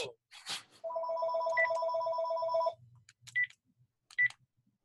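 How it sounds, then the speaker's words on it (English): A telephone rings with a steady electronic trill lasting about two seconds, preceded and followed by brief beeps and tones. Someone talks softly around the ring. "my phone is ringing."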